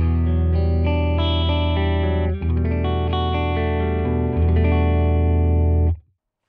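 An electric guitar plays through a Tone King Imperial MKII amp with the treble raised, sounding sustained chords loud and alone, changing chord twice before cutting off abruptly.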